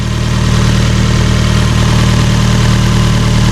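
A Fiat 124 Spider fitted with a MAXBoost ECM idles steadily close by, a loud, even engine drone with a low throb and no voices.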